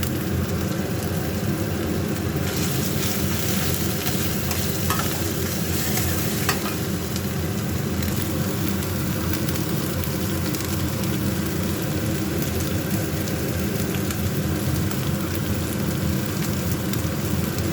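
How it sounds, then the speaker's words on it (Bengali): Tomato frying with ginger-garlic paste in a pan, a steady loud sizzle with scraping stir strokes throughout, continuous and close. "টমেটোটা একটু ভেজে দেবো"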